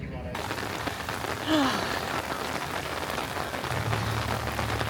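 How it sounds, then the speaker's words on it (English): Steady rain hisses throughout at Alton Towers theme park, a dense broadband wash with no pauses, and a brief faint tonal chirp rises partway through. "as you can hear, the rain is still coming down"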